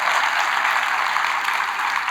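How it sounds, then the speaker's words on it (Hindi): Audience applause at a Hindi comedy poetry show (kavi sammelan), a dense, steady wash of clapping that holds at an even level throughout, with no voices over it. "तालियां कमजोर मत करो यार।"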